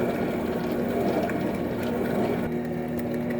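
An electric mixer whirs steadily through cream cheese pound cake batter, a constant motor hum with a churning, liquid texture, close and uninterrupted.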